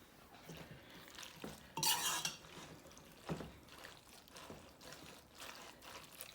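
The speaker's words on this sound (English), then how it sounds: "we're going to take our macaroni and cheese and add it into our pan" Macaroni and cheese is tipped and stirred into a pan for a smoked sausage casserole, giving soft scraping and wet sloshing with one brief louder clatter of spoon against metal, all fairly faint.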